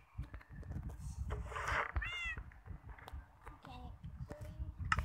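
A cat in the Minecraft video game meows twice in quick succession, with high, bright in-game tones. A faint background voice runs underneath, and soft bumps and clicks come from gameplay.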